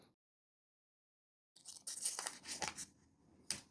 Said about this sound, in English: So I'm just putting an extra piece of tape in here to see if that will help.